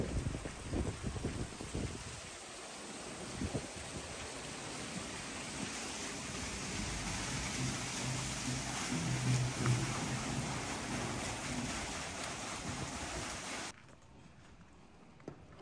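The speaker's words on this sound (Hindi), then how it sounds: "अब ये देखें कि इस तख्ते को इन्होंने उठा दिया है तो अब इसके अंदर से पानी आना शुरू हो गया।" Water rushing steadily through a raised wooden sluice gate at Skerries Mills, a historic Irish watermill, a loud broad roar that holds for most of the stretch, then cuts to a much quieter hiss near the end.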